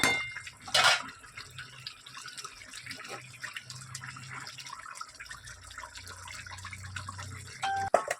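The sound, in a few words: pouring duck egg curry with cauliflower and potato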